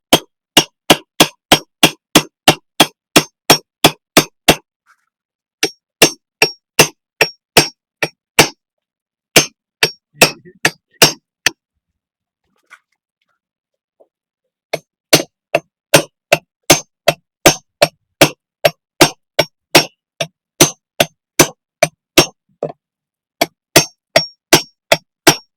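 A car battery being dismantled, its terminal head cut off: rapid runs of sharp metallic tapping strikes, loud and close, sound in bursts of a dozen or more with brief silent pauses between them, and no voices.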